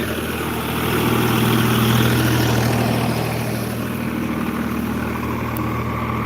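A tractor engine running at a steady idle in a Punjabi village, a loud, continuous low rumble close by that swells slightly, then holds even throughout with no talking.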